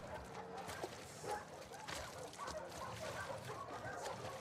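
Dogs bark in The Last of Us Part 2, a scatter of short yips and whimpering cries over busy game noise, with a voice sometimes heard beneath them.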